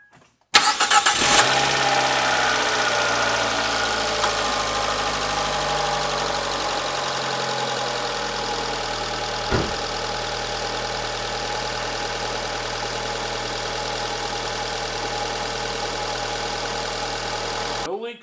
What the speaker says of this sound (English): So now we're going to get in the car, start it, and look for leaks.